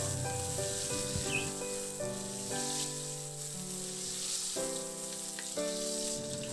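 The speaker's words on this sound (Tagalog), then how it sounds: "Igisa ko na yung luya." Ginger sautéing in hot cooking oil in a pan for a simple fish dish: a steady, soft sizzle and crackle under some ringing tonal background sound, close but fairly quiet.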